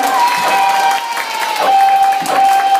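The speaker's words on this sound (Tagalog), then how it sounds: "At maraming palakpak para sa mga darating mag-party ni Jared!" Guests at a child's birthday party clap together in a fairly loud, continuous burst of applause with some cheering mixed in.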